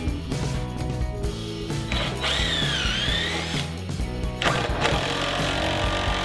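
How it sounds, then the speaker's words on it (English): A power driver whirs and whines as screws go into barn wood, fixing leg-support brackets to a bench. The motor rises and falls steadily and loudly up close, with knocks of wood and metal. "we'll screw on the brackets that support the legs"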